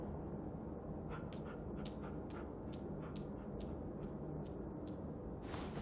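Rosie, a large dog in the video game The Walking Dead: The Final Season, gives a series of quiet sniffs and soft whimpering yips in a steady rhythm, ending in a brief burst of noise, over a low hum.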